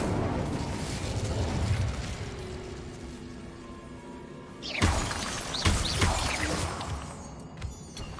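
A fire spell is cast in Hogwarts Legacy: a sudden roaring whoosh and crackling burst of flame breaks over a rumbling game backdrop, followed by a second flare and fading crackles, loud and close, with no voices.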